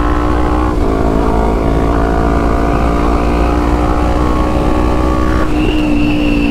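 A 2022 Honda CB 500 F with a 304 stainless steel Atalla header is ridden on a test ride. Its engine roars close and loud and steps up through gear changes, each shift marked by a brief dip before the pitch climbs again.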